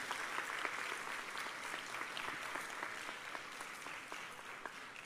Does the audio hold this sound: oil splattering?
no